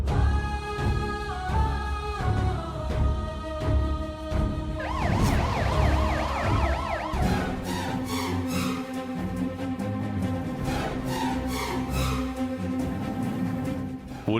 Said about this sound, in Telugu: Police jeep వచ్చిందేంటి?